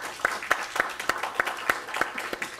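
An audience welcomes a visiting Buddhist monk at a live-streamed gathering with a short burst of steady, evenly spaced clapping that is fairly faint and has no talk over it.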